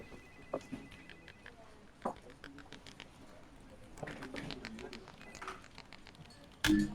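A desk telephone rings inside a horror visual novel game, heard as a brief, bright burst near the very end after quiet background sounds and scattered faint clicks.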